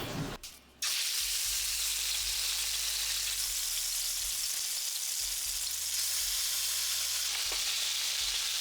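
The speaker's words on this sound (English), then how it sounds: "Now that the oil is hot, I'm going to add the oxtail pieces." Oxtail pieces fry in hot oil with a loud, steady, close sizzle that bursts in suddenly and holds without letup, no voices over it.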